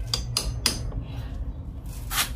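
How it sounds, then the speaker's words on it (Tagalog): Gentle hammering on a part of a Mio Soul i 125 CVT motorcycle braced against concrete, with several light metallic taps spaced apart, close by and sharp over a low background hum. "tapos pukpok lang dahan-dahan"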